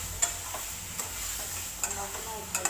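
Raw banana pieces fry in tomato purée in a pan for an Assamese egg curry, with a steady close sizzle and a few sharp scrapes and knocks of a stirring spoon.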